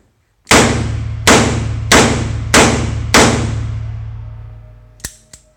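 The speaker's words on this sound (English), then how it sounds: "There's 5 shots." Five loud, sharp gunshots from a Smith & Wesson 340 PD revolver at an indoor range, evenly spaced under a second apart, each with a ringing decay, followed by two faint clicks.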